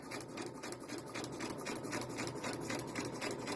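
A sewing machine running steadily as it stitches fabric, a quiet, rapid rhythmic needle chatter up close with no pause across the few seconds.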